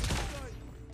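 Sniper fire in the mobile shooter COD Mobile: one sharp, loud shot cracks at the very start, then fades into a ringing tail over game ambience within a second.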